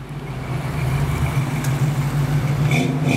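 A Ford Mustang V8 idling and revving nearby at a street car meet, a deep rumbling engine note that holds steady with a slight rise, loud and close.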